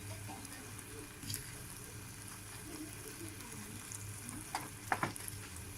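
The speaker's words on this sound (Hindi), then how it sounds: "आपने इसे लो आंच पे 7 से 8 मिनट तक चम्मच चलाते रहना है और इसे पकाना है" A spoon stirs semolina halwa in a pan over a low flame, making a faint, soft sizzle with gentle scraping and a few small clinks toward the end. There is no talking.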